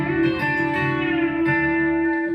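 B-bender electric guitar lick in D with a new picking pattern, sustained bright notes whose pitch bends up and back down twice, steady and close with no talking.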